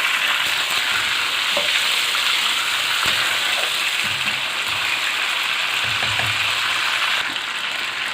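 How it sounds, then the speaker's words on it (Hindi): Steady loud sizzle of chicken frying in hot oil over medium heat for Shinwari karahi, a continuous crackling hiss with a few soft clinks, no talking. "बस मीडियम आंच पे हम इसको फ्राई कर लेंगे 5-6 मिनट के लिए।"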